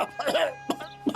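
A person coughs a few times in short, harsh bursts, close by, with no talking.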